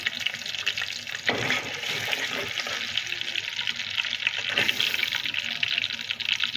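Garlic frying in a generous amount of oil for a chicken dish, giving a dense, steady hiss and crackle throughout with a couple of soft knocks from stirring.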